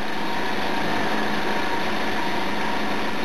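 An Honor CM series milling machine cuts dry at 400 RPM with a conservative feed, producing a steady, loud, dense mechanical whine and grinding hum that holds without a break throughout.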